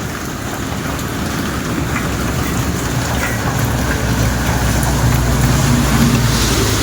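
Heavy rain from the approaching typhoon Uwan, a dense, continuous hiss of downpour striking surfaces nearby, with a low rumble underneath that grows slightly louder toward the end.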